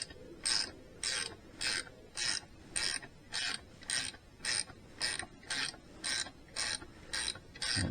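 Homemade puller of all-thread with aluminium tube, nuts and washers being tightened on a BSA Bantam D3 engine, a steady series of about thirteen close ratcheting strokes, evenly spaced and alone.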